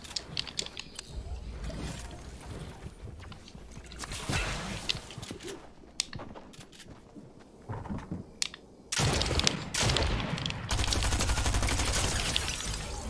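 SMG gunfire in the Fortnite video game, rapid bursts of shots crackling over busy game sounds, growing denser and louder toward the end.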